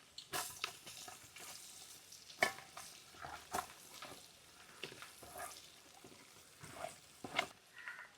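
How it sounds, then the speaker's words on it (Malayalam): Garlic sizzling in hot oil with mustard seeds, fenugreek and ginger, heard as a quiet, steady fry with stirring scrapes and small pops. "ഇനി നമുക്ക് വെളുത്തുള്ളി ഇട്ട് കൊടുക്കാം."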